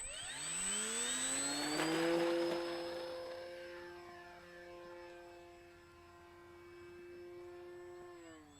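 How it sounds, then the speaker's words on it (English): An FMS Ranger 1220mm RC airplane on its maiden flight gives a steady electric-motor whine that climbs in pitch as it throttles up, then holds and drifts slightly, heard at a moderate distance with no voices. "Maiden flight, FMS Ranger."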